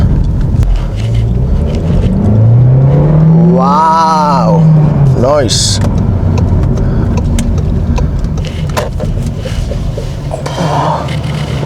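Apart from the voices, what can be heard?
VW Golf 1.5 TSI car driving on test drive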